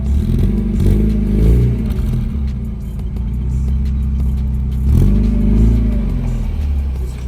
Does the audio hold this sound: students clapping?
no